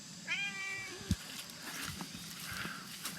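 A cat gives a single clear meow early on, close and moderately loud, followed by a brief thump and light outdoor background noise while water is being fetched.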